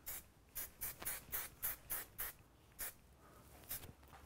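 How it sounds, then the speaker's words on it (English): Hairspray misted onto a finished, pinned hairstyle in a series of about ten short hissing bursts in a fairly even rhythm, close and fairly quiet, with a brief pause before the last couple of sprays. "And then you're just going to finish with a hairspray and just to have it hold all night long."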